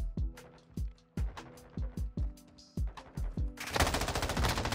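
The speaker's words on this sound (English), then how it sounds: "we're using an M13B in today's video" Rapid automatic M13B rifle fire in Modern Warfare 2 gameplay, bursts of sharp shots that end in a dense, loud stream of gunfire.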